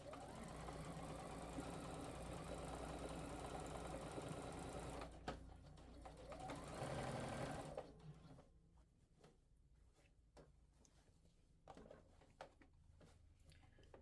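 A sewing machine stitches a bias tape casing slowly, a soft rapid whir running steadily for several seconds, then stopping, followed by quieter handling clicks and taps.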